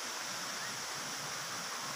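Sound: stream flowing in a tourist park

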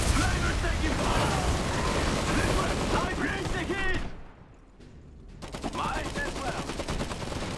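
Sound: artillery fire in the video game Iron Harvest

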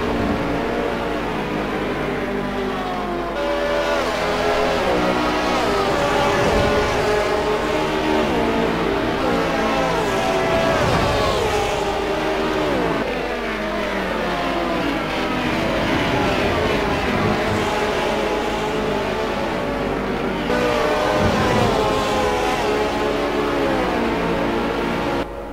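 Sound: race car engines in Assetto Corsa video game, BMW M3

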